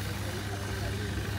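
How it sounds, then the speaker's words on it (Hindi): A small generator, rigged beside a tank at a roadside bike service station in Kenya, runs with a steady low hum under faint voices. "छोटा सा जनरेटर साथ किया हुआ है टैंक के, और उससे अब सर्विस हो रही है बाइक की"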